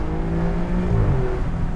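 Alfa Romeo Giulia Quadrifoglio engine revving from inside the car, a loud steady drone with rising harmonic tones, close and continuous with no talk.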